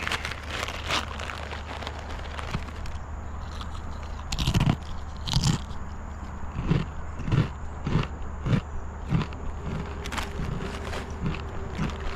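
A crunchy snack being bitten and chewed outdoors at a park riverside while kayak fishing, with a series of close, irregular crunches over a steady low hum.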